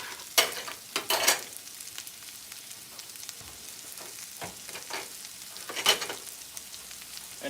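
Broccoli sizzles and crackles in a hot pan for a shrimp chow mein, with bursts of louder frying as it is stirred, then a quieter steady sizzle in between.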